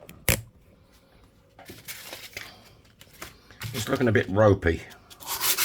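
A worn edge of a Romanian 1 leu coin ring is sanded by hand, producing short, close rubbing and rasping strokes between pauses, with someone talking over the last part.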